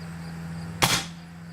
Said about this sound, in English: I'm going to take one more shot and see if I can get a close